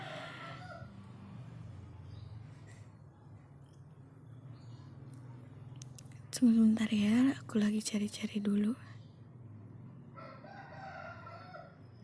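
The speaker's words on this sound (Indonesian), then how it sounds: "ada suara ayam" A rooster crows in a few loud, strained bursts mid-clip, with brief clucking, close by over a low steady background hum while someone talks quietly before and after.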